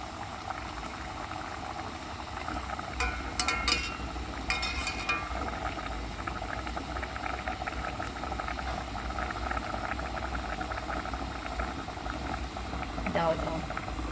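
Liquid bubbles at a rolling boil in a cooking pot, a close, constant seething texture throughout, with a few bright glassy clinks early on.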